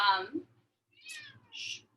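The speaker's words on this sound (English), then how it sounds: "cat's yelling a lot as usual" A cat indoors during a home workout yowls twice in drawn-out rising and falling cries, fairly close. A short burst of human voice comes before the cries, over a faint low hum.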